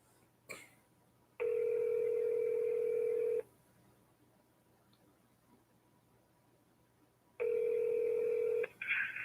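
A phone call is placed. After a brief click, two long, steady ringback tones sound about six seconds apart, clear and close, with quiet line hiss between them and a short noise at the end as the call connects.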